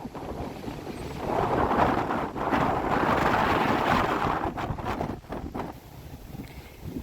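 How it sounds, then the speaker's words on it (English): Gusty wind off Plymouth Harbor in Massachusetts buffets and roars against the microphone, swelling loudly in the middle then easing, with a faint hiss of open air behind. "The wind isn't that bad up against it"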